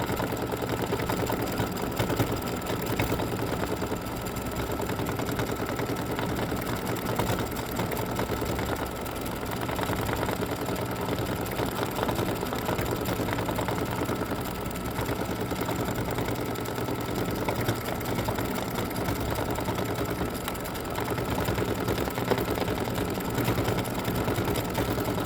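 An embroidery machine stitches the knees of a free-standing-lace Halloween spider design, a steady, unbroken mechanical whir running close and loud at an even pace throughout.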